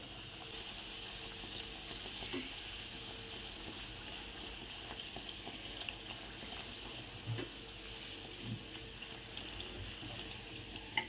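A puri sizzles in hot oil as oil is spooned over it, a quiet, steady bubbling hiss with small pops and crackles throughout.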